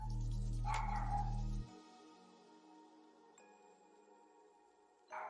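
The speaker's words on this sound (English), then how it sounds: "Trying to take care of a couple of doggy issues. As you can hear, they're still going on." Dogs bark in a home in the evening, a short loud bark near the start over a low steady hum, then quieter room tone.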